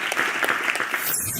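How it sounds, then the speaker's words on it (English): Brief burst of hand clapping applause on a radio broadcast, dense and steady for just over a second before tapering off. "Give Mr. Yahuwah a hand clap"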